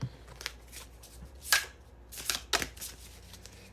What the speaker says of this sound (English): Okay, let's get an oracle.